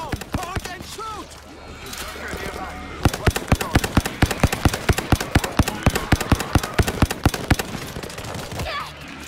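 Rapid, evenly spaced gunfire in World War Z on the Marseille map, a long sharp automatic burst of dozens of close shots following quieter scattered fire, with voices shouting underneath.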